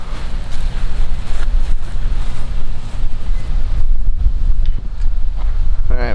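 A strong headwind buffets the microphone on a disc golf course, giving loud, gusty low roaring that runs throughout with brief pauses, and faint background sounds.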